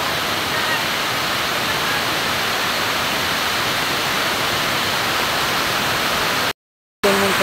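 Rushing water after heavy rain in Tagum, Davao del Norte, roars as a loud, steady broadband wash, briefly cut off near the end.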